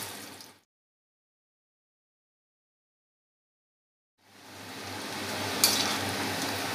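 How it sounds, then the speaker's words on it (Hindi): Pieces of besan (gram flour) batter frying in hot oil, a steady crackling sizzle that cuts off into silence and then swells back loud and continuous. "इसे फ्राई कर लेंगे।"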